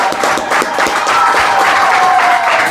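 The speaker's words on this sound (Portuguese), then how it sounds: "Uma salva de palmas para o nosso Deus." A church congregation applauding during a sermon, a steady wash of many hands clapping together, loud and sustained with no gaps.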